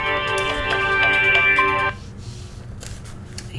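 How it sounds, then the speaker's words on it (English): A phone rings with a bright, tonal electronic ringtone, loud and close for about two seconds before cutting off abruptly into quiet room noise. "always the phone going off"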